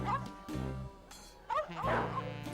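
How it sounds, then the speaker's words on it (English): Several dogs bark and yip in quick bursts, close and overlapping, with a whimper between barks. "the dogs stopped chasing Douglas"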